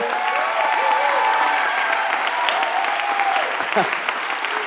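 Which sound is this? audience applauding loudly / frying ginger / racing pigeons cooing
audience applauding loudly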